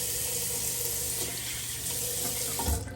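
Faucet running steadily into a hotel bathroom sink at the Washington Marriott Georgetown, a continuous close hiss of water with a slight thump near the end, no talking.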